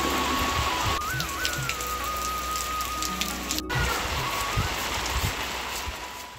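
Heavy monsoon rain pouring down in the hills of Uttarkashi, a steady dense hiss of drops on surfaces, close and continuous, with a thin whistling tone drifting through it.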